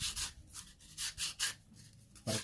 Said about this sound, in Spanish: Y después con otra lija para la parte de adentro,